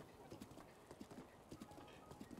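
Horse hooves clip-clop in a steady quick rhythm as a horse is ridden in the video game Breath of the Wild, fairly quiet and even.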